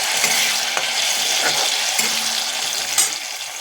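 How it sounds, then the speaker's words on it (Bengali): Cauliflower frying in a pan with ginger, chopped green chilli, cumin-coriander powder and a pinch of salt, giving a steady close sizzle broken by soft scrapes and clicks of stirring, with no talking. "ফুলকপি ভেজে তুলে নিলাম"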